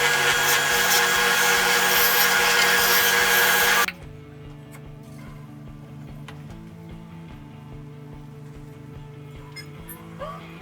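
A bandsaw cuts through the ends of a wooden drawer, a loud steady whining buzz for about four seconds that then drops to a quieter motor hum as the blade runs free.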